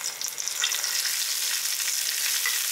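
Banana flower sautés in a hot pan with dried red chillies, giving a close, loud, continuous crackling sizzle with light stirring and no voices.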